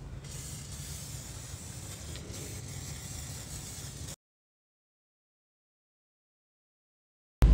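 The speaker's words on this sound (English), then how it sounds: "give the hub a spray of some corrosion protection" An aerosol spray hisses steadily for about four seconds as corrosion protection is applied to a car's brake hub, then cuts off into silence before a brief loud bump at the end.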